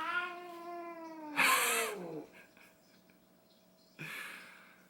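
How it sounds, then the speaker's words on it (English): Two cats fight with a drawn-out rising yowl, then a harsh hissing spit and a second shorter hiss a couple of seconds later, close and fairly loud with no talking. "Cats are fighting."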